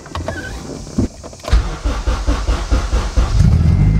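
A stanced car cranks and starts up close by, with a few clicks and a short whir before the engine catches. It then settles into a loud, rumbling idle that swells toward the end.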